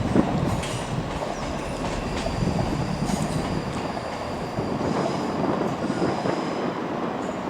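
A ScotRail Class 334 electric train moves through Edinburgh Waverley station with a steady rumble, rail clatter and intermittent wheel squeal under the station roof, continuous and fairly close.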